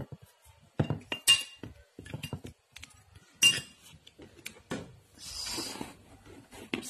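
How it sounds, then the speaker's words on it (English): A spoon clinks against a bowl while mixing a skin pack made with two spoons of Banjaras powder, giving several close, sharp taps and scrapes in an irregular rhythm with brief pauses in between. "This is 1 spoon and mix it thoroughly."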